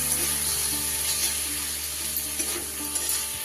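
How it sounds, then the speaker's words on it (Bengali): Ground spices frying in a pan after a splash of water, a steady close sizzle with faint stirring scrapes throughout, no voices. "গুঁড়ো মশলাগুলো যাতে পুড়ে না যায় তাই সামান্য একটু জল দিয়ে দিচ্ছি আমি।"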